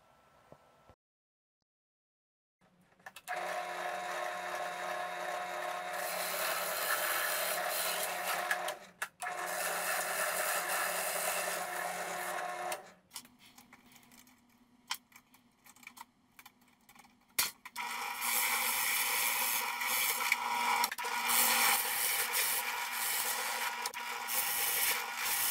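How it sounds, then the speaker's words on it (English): A power drill bores 1 to 1 1/8 inch holes through a bartop arcade joystick panel in several long, loud whirring passes broken by short pauses, close and steady. "I start drilling out the holes for the joystick panel"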